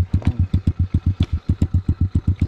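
A mini motorbike with a punctured tyre runs its small engine in a steady, rapid chugging beat of evenly spaced low thumps, close and fairly loud, with no talking.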